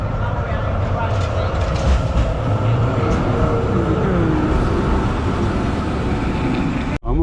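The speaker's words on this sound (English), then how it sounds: "This is our tram coming up, number 12. Here it comes right here." Oslo tram number 12 pulling in at a street stop, a steady loud rumble of wheels and motor that holds throughout, with faint voices underneath.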